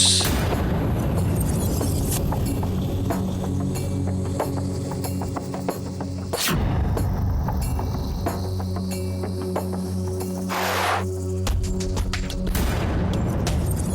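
Gunshots in a detective drama scene set in complete darkness, sharp bangs and booms standing over a steady mechanical hum and clanking, loud and close, with no speech.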